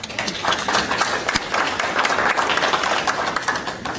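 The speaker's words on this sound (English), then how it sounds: "It is very rare to get applause from the council after citizen comment" City council members applaud at a meeting after a resident's public comment, a brief burst of brisk, fairly close clapping from a small group, even and continuous throughout.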